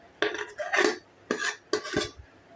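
Fermented idli and dosa batter is stirred in a pot, giving four distinct scraping, clinking strokes against the vessel in an uneven rhythm, close and moderately loud.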